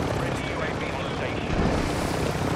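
A helicopter in a video game makes a dense, continuous roar and whir that fills the whole stretch, with voices mixed in.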